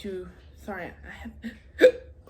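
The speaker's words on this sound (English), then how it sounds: "hiccups" Hiccups from a woman, a few short sharp gasps with voiced speech-like sounds between them, close to the microphone, the loudest hiccup near the end.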